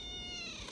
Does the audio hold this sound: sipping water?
no